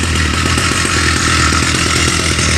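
A Stihl 084 chainsaw on an Alaskan mill idling loudly and continuously before milling a cedar log, with a rough, steady buzzing rumble throughout.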